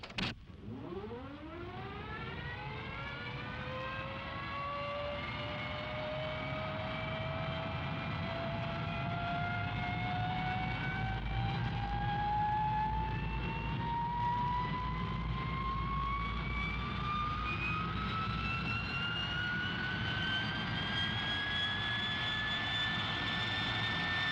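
A jet engine spools up with a rising whine that climbs steadily in pitch over a sustained roar, loud and continuous throughout.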